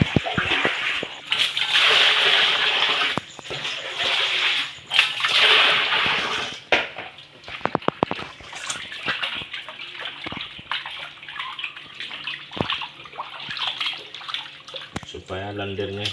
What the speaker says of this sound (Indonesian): Bilasnya kita bersihin ya.